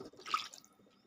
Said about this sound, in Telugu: 2 గ్లాసులు వాటర్ వేసేసుకుందాం.